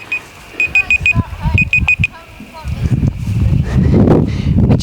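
A small alarm goes off during a functional fitness stretching class, sounding two quick bursts of four sharp, high beeps, followed by rustling movement and muffled voices.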